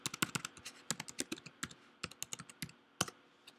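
Rapid keystrokes on a computer keyboard, irregular clusters of crisp clicks at close range with brief pauses, no voice over them.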